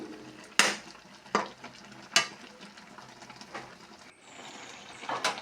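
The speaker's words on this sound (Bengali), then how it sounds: "এখন ভালোভাবে মিলিয়ে দিচ্ছি গরম মশলা, চিনি সব ভালোভাবে" Spoon scraping through an egg, paneer and fried brinjal mixture seasoned with garam masala and sugar in a pan, with a few sharp scrapes and clinks over a low sizzle.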